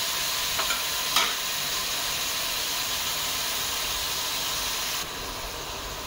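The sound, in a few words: parwal (pointed gourd) seeds frying on low flame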